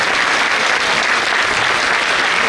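An audience applauds loudly and steadily at a university lecture event in Chapingo, welcoming Dr. Miguel León Portilla with dense, unbroken clapping.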